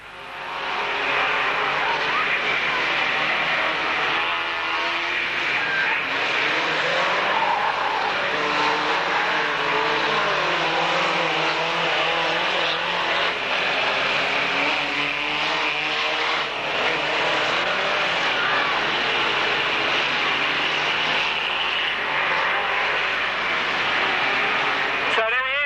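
Vans racing at a Braintree Auto Club meeting in 1991, engines droning and revving continuously for the whole stretch, with a commentator talking over the steady roar and one van shunted from behind by another.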